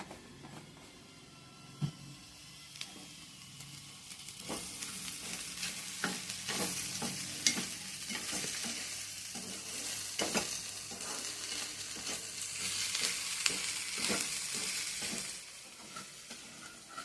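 Sliced okra fries in a hot pan, a steady sizzle running throughout as a spoon stirs and scrapes the pan in irregular clicks and knocks, close and fairly loud.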